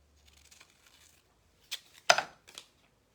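A collage paper piece is cut in half, with a faint rustle followed by three quick, sharp snipping crunches close by and no talking.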